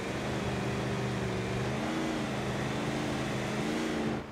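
Supercharged turbo diesel engine from the Automation car-building game revving steadily, a loud continuous drone with layered harmonic tones that shift slightly in pitch before cutting off abruptly near the end.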